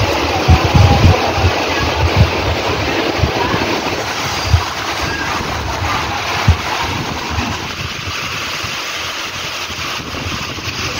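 A passenger train on the Vijayawada to Tenali line starts and runs in the rain: a steady, loud rumble with scattered low thumps and hiss, mixed with wind noise on the microphone.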